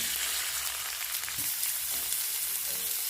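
Grated coconut fries in hot white oil in a wok, giving a dense, even sizzle that stays loud and close throughout with no pauses.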